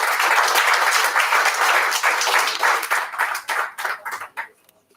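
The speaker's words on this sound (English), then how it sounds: "Ladies and gentlemen, a round of applause, please, for ladies" A crowd applauds at a festival media launch, dense steady clapping that carries on loudly before thinning out into scattered, fading claps near the end.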